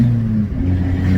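Abarth 595 fitted with a Toyosports exhaust and 200-cell sports cat accelerating on the road, a steady loud engine drone with strong low harmonics rising slightly, heard close from inside the car with no talk.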